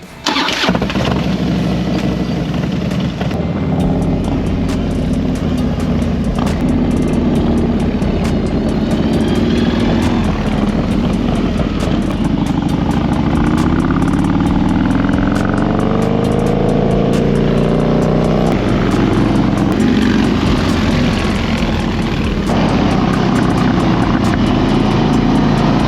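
A Harley FXR motorcycle with a built 111 engine fires up with a loud, deep rumble, then revs and pulls away with rising and falling engine tones as the rider accelerates, sustained and close throughout.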